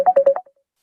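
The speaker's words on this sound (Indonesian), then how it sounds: "ada telepon masuk" A phone signals an incoming call with a quick burst of four short electronic beeps followed by a brief fading tone, clear and alone.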